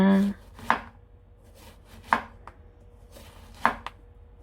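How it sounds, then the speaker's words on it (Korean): A knife slices a Korean zucchini (aehobak) on a cutting board in three well-spaced, crisp chops, each followed by a faint tap. No one talks over it. "납작납작 썰어서 적당한 크기로 채를 썰어 보겠습니다"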